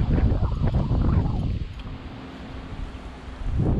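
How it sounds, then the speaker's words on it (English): Gusty wind buffets the microphone out on a bass fishing boat, a loud rumbling roar that eases midway and surges back at the end, with no voices heard. "It's a bit breezy out here."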